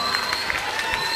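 A church congregation at a live worship service in Paris applauds and cheers together, a dense wash of clapping and crowd noise filling the whole short moment.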